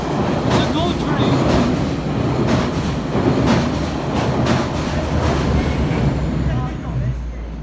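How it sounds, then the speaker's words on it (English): A GO commuter train rumbles past directly overhead, a loud continuous roar with rhythmic clickety-clack of wheels over rail joints for several seconds, easing slightly toward the end. "I still saw the GO train."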